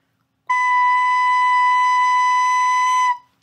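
A recorder sounds a single sustained B, a pure steady whistle-like tone held for about two and a half seconds, close and alone, with a clean start and a soft release.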